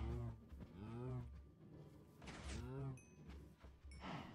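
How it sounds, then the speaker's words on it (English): Cows in the Minecraft video game moo several times in drawn-out, wavering calls, fairly close and loud, with a few game clicks and thuds in between. "I guess I can feed some cows, huh?"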